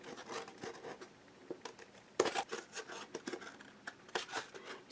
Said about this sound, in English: You just want to take a thin little cut, not a big gouge into it